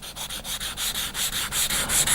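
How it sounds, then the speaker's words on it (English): Sandpaper rubs back and forth over a drip in the finish on a DIY kit guitar body, a steady rasping scrub in fast, even strokes, close and alone. "There's a drip there that I'm trying to sand, and as I'm sanding it, the surrounding area is dropping as well."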